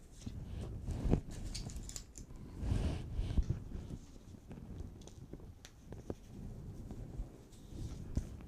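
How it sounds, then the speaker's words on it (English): Fabric scissors cut through interfacing in a series of crisp snips and rustling slides, mostly close with irregular pauses between cuts and no speech. "Fabric scissors."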